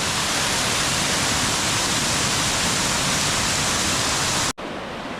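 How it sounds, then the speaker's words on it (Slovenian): A twin-stream waterfall on the Ukanška Suha stream roars with a steady, dense rush of water, loud and continuous, then briefly cuts out near the end. "Trenutno dvopramenski slap, ki je precej vode."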